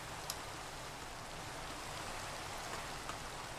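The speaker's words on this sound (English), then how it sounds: "I'm shutting the door because it's raining outside." Steady rain falls outside in Minecraft, a soft, even hiss of drops with no talking, faint and continuous throughout.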